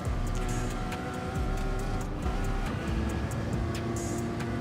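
A race car engine in a racing video game practice session on the Nürburgring Nordschleife, a loud, steady engine drone that holds its pitch almost unchanged, with faint sharp ticks above it.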